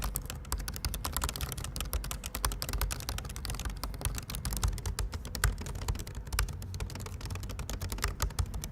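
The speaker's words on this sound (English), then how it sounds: "it happens to have the effect of slightly dampening the noise and feel from the keyboard" Rapid, steady typing on a 2018 MacBook Pro keyboard, close and fairly quiet, with soft clustered key clicks and no talking.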